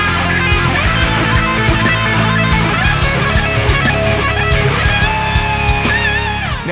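Electric guitar plays fast sweep-picked arpeggios in a chromatic, non-diatonic style, sounding dense and continuous at steady high loudness over about seven seconds.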